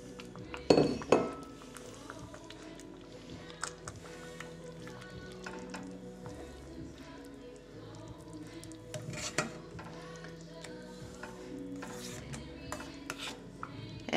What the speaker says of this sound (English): So just stir them through the soup.